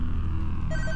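A telephone rings in a late-night convenience store video game, a bright electronic ring starting near the end of the second and repeating in short bursts over a low, steady background hum.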